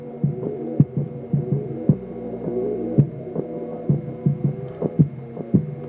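A hip-hop beat in a Drake-style production is processed with the Noisy Neighbors preset, giving it a muffled, dark sound. Thumping kick hits and throbbing bass pulse in a steady rhythm, with muted melodic layers beneath and no voices.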